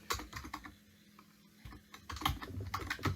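Close, rapid typing on a computer keyboard while JavaScript code is written: uneven bursts of crisp key clicks with brief pauses, heavier clacks near the end.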